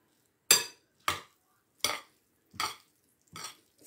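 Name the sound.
mixing a garnished salad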